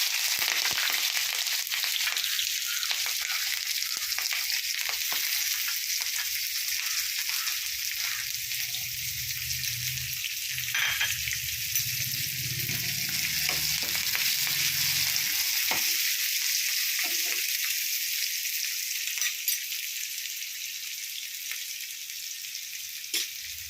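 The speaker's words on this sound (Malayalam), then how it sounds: "തേങ്ങാക്കൊത്ത്, പച്ചമുളക്, ഉള്ളി എല്ലാം നമുക്ക് എണ്ണയിലേക്ക് ഇട്ട് കൊടുക്കാം" Coconut pieces, green chili and onion fry in hot oil for bitter gourd stir-fry, a steady loud sizzle running throughout with occasional stirring scrapes and pops.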